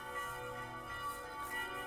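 Church bells ring along Krakowskie Przedmieście street in Poland, their sustained tones hanging steadily at moderate distance with soft swells in level.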